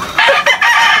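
A rooster crows loud and close in a short, strained call that rises and breaks into two quick bursts, heard alone.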